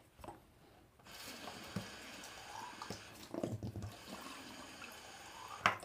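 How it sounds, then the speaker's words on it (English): Water runs from a tap to fill something for rinsing after a feeding, a splashy, uneven stream with a few small knocks and clunks, fairly close, no voices. "I'm just gonna get some water"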